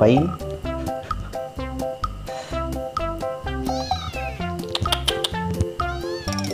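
A cat meows repeatedly in short, clear calls, loud and close, with varied pitch and brief pauses between cries.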